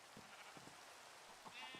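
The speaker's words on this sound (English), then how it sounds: "Hello. Sheepies." Minecraft sheep giving a couple of faint, short bleats over a steady soft hiss of rain-like game ambience.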